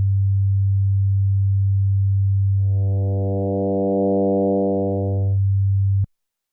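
Low, steady ASM Hydrasynth oscillator tone that swells midway into a richer, buzzy harmonic layer as the mutator is blended in, then thins out again before cutting off abruptly.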